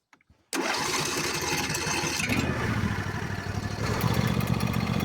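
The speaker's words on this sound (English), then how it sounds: "Let's go ahead and reconnect the spark plug wires, and then we'll start it up." A Briggs & Stratton Intek V-Twin engine catches after a couple of brief clicks, then settles into a steady loud running rumble up close, its note shifting slightly as it steadies, with no talk.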